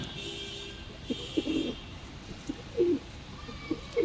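Domestic high-flyer pigeons with black wings coo in a loft, giving several short, low, throaty bursts at irregular intervals over a steady hum, with faint traffic in the background.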